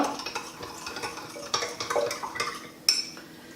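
Spoon stirring coconut water, dried grapes and sugar in a vessel to make homemade toddy, with a string of close clinks and scrapes against the container, some sharper taps standing out, and no talking.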